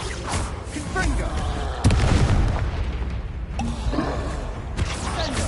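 A Confringo spell explodes in Hogwarts Legacy with a sharp boom near the middle, surrounded by rumbling combat effects and smaller bursts, with a voice speaking over the game sounds.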